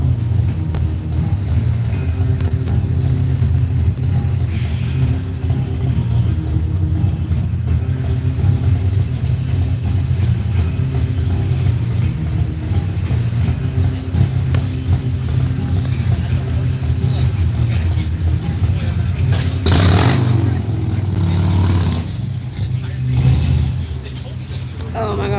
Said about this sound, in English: I hate loud motorcycles.